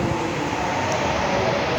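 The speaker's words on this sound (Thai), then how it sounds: "ขณะนี้ขบวนที่ 212ออกจากสถานีรถไฟดอนเมืองแล้วนะครับ" Alsthom locomotive-hauled ordinary train 212 departing Don Mueang station in Thailand, heard as a steady, loud broadband rumble and roar of the moving train, continuous and close, with no distinct clanks or voices.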